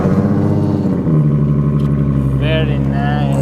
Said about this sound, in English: Now we can go ahead and start the car.